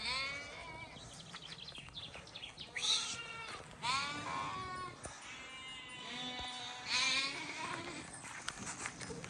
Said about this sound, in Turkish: Bak koyunlar oraya gidiyor.